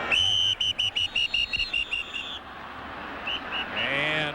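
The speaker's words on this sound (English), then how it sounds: "whistles blow before the play gets underway" Referee whistles shrill repeatedly at a 1995 NFL game between the St. Louis Rams and Chicago Bears, a rapid series of sharp blasts followed by a longer, fainter whistle amid stadium crowd noise.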